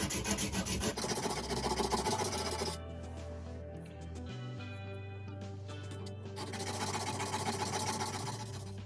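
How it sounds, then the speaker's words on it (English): A blade bevel is rubbed back and forth on abrasive paper, making rough, rasping strokes up close that stop briefly and then start again, while a steady low hum runs underneath. "because it'll take too long to sharpen"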